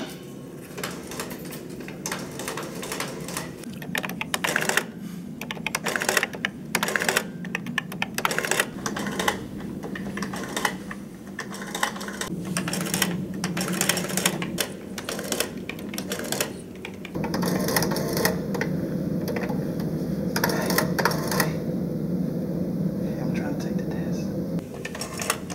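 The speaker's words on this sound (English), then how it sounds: "A lot of noise with that thing. I'm sorry, this is the only calculator I have" Cheap old calculator running noisily, a dense clatter of rapid mechanical tapping and ratcheting that keeps going for the whole stretch, with people talking over it.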